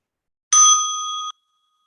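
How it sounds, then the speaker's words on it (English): A single mindfulness bell struck once, ringing a clear, bright tone with steady overtones that sustain for close to a second before stopping cleanly, heard alone against silence. "just listen to the bell"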